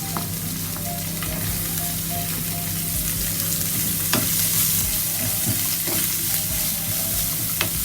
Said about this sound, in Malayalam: ഈ സവാളനെ ലൈറ്റ് ബ്രൗൺ വരെ നമുക്കൊന്ന് ഇളക്കിയെടുക്കാം.